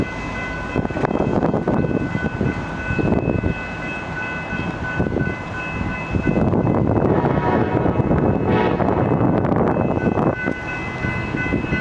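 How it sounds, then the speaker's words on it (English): Amtrak Cascades passenger train led by a Siemens SC-44 locomotive arriving in Portland, a loud rumbling roar with rolling rail noise and a steady tonal whine, close and continuous throughout. "here's an original SC-44 leading an Amtrak Cascades train into Portland"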